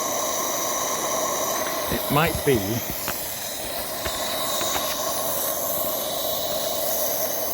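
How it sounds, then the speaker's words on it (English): A Beck Helene live steam locomotive hisses with constant steam over running noise, while a voice speaks briefly and a few faint clanks and squeaks come through. "I'm just looking to see where this steam is coming from."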